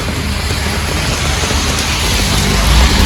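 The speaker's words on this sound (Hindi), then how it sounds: "अब और भी तेज है बारिश यहाँ पर" Heavy rain pours down outdoors near a large banyan tree, a loud, dense and continuous hiss of drops that swells slightly toward the end, with no voices.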